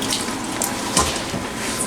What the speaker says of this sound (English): I'm going to have you stop at the sink. I'm going to have you wash your hands for me, please.